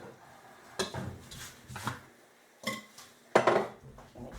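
A bowl taken out in a home kitchen: several short clinks and knocks of dishware, close and fairly quiet, ending with a brighter clatter of pots and dishes being shifted.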